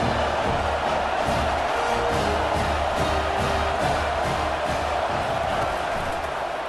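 A football stadium crowd roars steadily in the snow, the sustained cheer for the home defense filling the space as a broad, continuous wash of noise with no single voice standing out.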